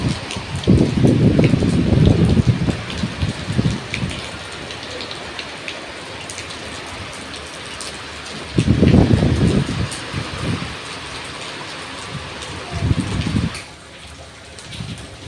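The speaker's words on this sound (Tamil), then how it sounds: "பாருங்கள், மழை பெய்யுது, நல்ல மழை" Heavy rain falls steadily outdoors near a home kitchen, a constant dense hiss with louder low rumbling surges that come and go.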